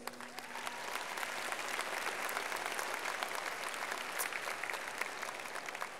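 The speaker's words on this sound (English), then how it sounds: "I think they deserve a round of applause." A crowd at a high school graduation ceremony applauds steadily, a dense wash of clapping hands that rises quickly and holds for several seconds, with no talking on top.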